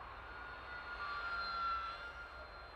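A roughly 500-gram model aircraft powered by a T-Motor AT2306 KV2300 motor on a 2S battery flies past, its motor a steady, fairly distant whine that rises slightly and then fades.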